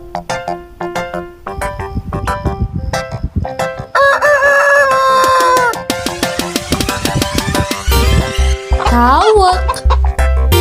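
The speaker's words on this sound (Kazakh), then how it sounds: "Әтеш." A rooster crows loudly in a drawn-out call, then gives a second shorter crow near the end, both over steady background music.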